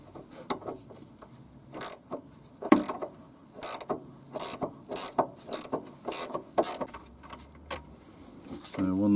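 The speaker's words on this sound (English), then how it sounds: "Top nut on this one is a 17mm, and I'm going to hold it still with a little 6mm spanner and a little tab at the top" A spanner undoing a 17mm top nut on a VW T25 front shock absorber, giving a series of close, sharp metallic clicks and ratcheting taps in irregular bursts, with quiet gaps between them.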